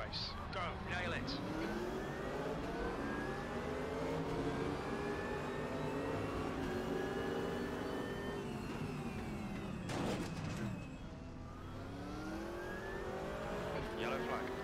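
Race cars pulling away from the grid at the Red Bull Ring GP in the RaceRoom game, with engine notes rising and falling through gear changes and a brief dip in the middle, carrying on steadily under a talking voice.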